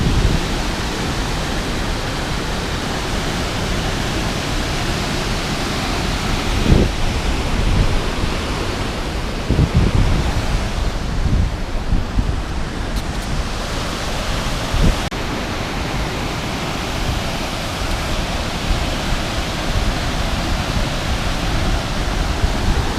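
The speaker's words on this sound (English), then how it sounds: "got these waterfalls" Waterfalls rushing on the slopes of Moel Siabod, a steady, dense roar of falling water that stays loud and unbroken throughout, with no voices over it.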